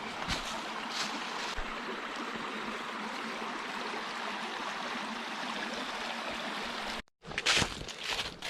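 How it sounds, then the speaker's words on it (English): A creek in a crystal cave rushes steadily and evenly at close range. The flow breaks off for a moment near the end, then returns with a few splashes. "And here is a final creek."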